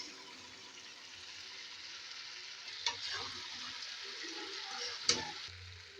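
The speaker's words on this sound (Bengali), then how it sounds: "আমি এর মধ্যে চিংড়ি মাছ আর ডালের বড়াগুলো দিয়ে দিচ্ছি" A soft, steady sizzle as prawns and lentil fritters cook in a sour-yogurt curry with potato and yam, quiet overall, broken by two sharp clinks of a utensil against the pan.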